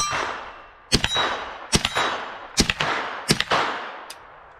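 Five or six sharp gunshots from a Foxtrot Mike AR9 carbine fired at targets, spaced irregularly less than a second apart, each a loud crack with a quick decaying ring, and nothing else in between.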